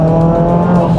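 A loud, high-revving 500 hp Renault Mégane engine roars briefly, rally-car style, with a strained, racing tone up close.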